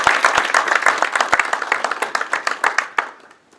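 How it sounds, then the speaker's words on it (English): A breakfast audience at a chamber of commerce event claps for an incoming speaker, loud dense applause from many hands that thins into scattered individual claps and fades out over the last second. "So please give him a round of applause."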